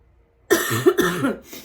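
A single harsh cough bursts out after a moment of silence, followed by a second rougher cough and throat-clearing, close and fairly loud.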